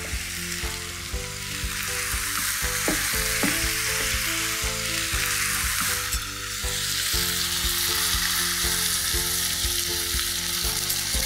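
Beef mince hits a pan of softened onions with a loud, continuous sizzle, and rapid spatula scrapes and taps tick through it steadily for the filling of a beef and potato pie.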